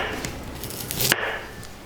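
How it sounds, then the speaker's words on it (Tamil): A knife cuts bitter gourd into thin slices on a board, giving a few soft taps followed by one sharper chop, close by and with no voices. "எட்ஜஸை கட் பண்ணிவிட்டு நல்லா தின் ஸ்லைஸாக இதை பண்ணிக்கணும்."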